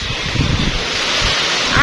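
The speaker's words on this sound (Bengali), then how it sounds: "যেমন বৃষ্টি এমন বাতাস।" Heavy rain and wind make a dense, continuous rushing roar, loud and close, with a voice faintly mixed in.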